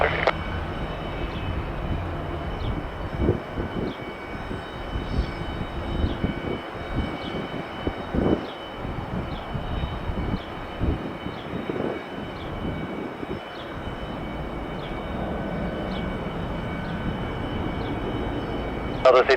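An Airbus airliner at Detroit Metro Airport gives a steady, broad jet roar throughout. Air traffic control radio chatter sits underneath the engine noise.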